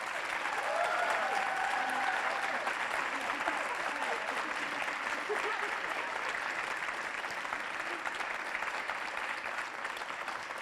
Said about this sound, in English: So if we can give them another round of applause.